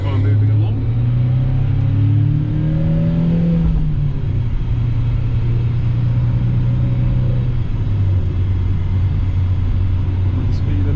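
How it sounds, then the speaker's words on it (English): A car pulls away from a roundabout onto a 50 mph road and accelerates, engine droning steadily inside the cabin as the revs climb and shift, with loud continuous road rumble throughout. "so let's get the car moving along."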